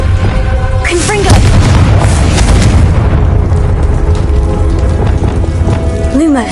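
A Confringo blasting spell cast in a video game sets off loud, booming explosive blasts over a dense rumble, with a spoken voice and game sound effects layered throughout.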